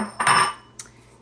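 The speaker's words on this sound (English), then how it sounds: "I'm going to take the egg whites out of this bowl and scoop them into another bowl" A utensil scoops egg whites from one bowl into another for cloud bread, making one bright clink against the bowl followed by a softer second tap, close and otherwise quiet.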